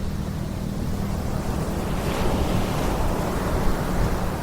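Ocean surf washes onto a beach in Zambales, a steady broad rush of waves mixed with wind noise on the microphone, loud and close with no voices.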